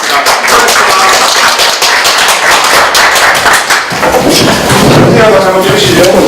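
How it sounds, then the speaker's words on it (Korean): Audience at a political reform talk concert applauding the three speakers, loud sustained clapping from a crowd, with cheers rising near the end. "세 분께 큰 박수 드리면서 마무리하도록 하겠습니다"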